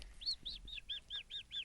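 A person imitates a cockatiel call with seven short, high chirps in an even, quick rhythm, fairly faint and alone.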